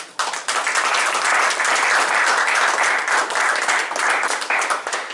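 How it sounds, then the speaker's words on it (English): Round of applause at a school board meeting, a crowd clapping steadily and fairly loudly for about five seconds, starting abruptly and fading slightly at the end. "So another quick round of applause."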